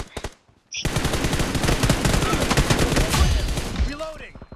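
Rapid automatic gunfire from the video game PUBG rattles in a dense sustained burst, loud and close, while players talk over and around the shooting.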